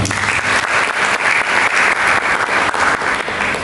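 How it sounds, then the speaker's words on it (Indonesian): Church congregation applauding during a sermon, a continuous dense wash of many hands clapping, loud and sustained throughout with no speech over it. "Berikan tepuk tangan"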